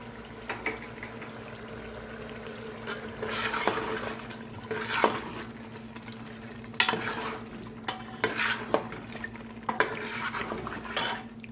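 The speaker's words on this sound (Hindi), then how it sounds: "ये लहसुन अदरक का पेस्ट डाल रही हूँ।" Garlic-ginger paste frying with meat in ghee for nihari, a steady low sizzle, while a utensil stirs and scrapes now and then, clinking against the pot.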